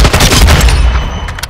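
A grenade goes off in a Call of Duty: Modern Warfare II team deathmatch with a loud, close blast. A quick rattle of gunfire follows in the brief, chaotic moment.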